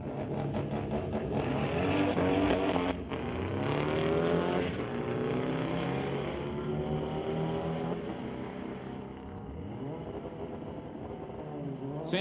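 Drag race at Mission Raceway Park between a 2.5-liter Subaru Impreza and a 1962 Volkswagen Bug with a 2,332 cc engine, heard as loud engines revving and climbing through the gears, then fading away down the strip.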